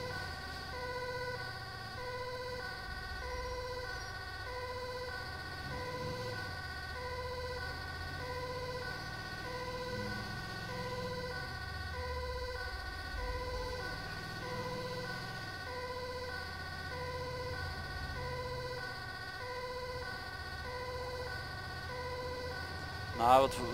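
An ambulance siren in the video game GTA 5 wails in a steady repeating electronic pattern for the whole stretch, with a vehicle engine rumbling underneath and a brief bump near the end.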